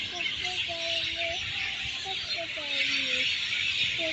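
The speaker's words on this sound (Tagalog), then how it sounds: "Pakinggan nyo guys ang huni ng mga ibon. Napakadami. Napakaingay nila." Many birds call from a leafy tree at a Singapore playground in the evening, thin whistling notes repeating over a dense bright hiss of chirping, with background noise throughout.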